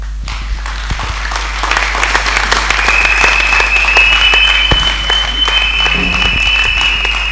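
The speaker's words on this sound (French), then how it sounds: "Acclamez très fort, acclamez très fort, acclamez très fort." A congregation at a women's prayer service applauding, a dense sustained wash of clapping that swells and holds, with a voice calling out over it.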